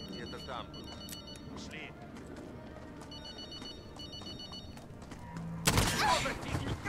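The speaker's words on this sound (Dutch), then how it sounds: "Ik laat het mobieltje nog een keer overgaan." A mobile phone rings in the Call of Duty Modern Warfare campaign as a repeating electronic ring pattern under game ambience, followed by a sudden loud burst of gunfire or impact noise near the end.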